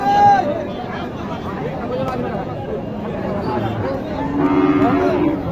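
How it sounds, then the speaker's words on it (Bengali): Sahiwal cattle at a rural livestock market in Naogaon, low moos rising over a steady crowd murmur, with one clearer call near the end; people talk and chatter throughout. "দেশি কিছু শাহিওয়াল গরু দেখাই।"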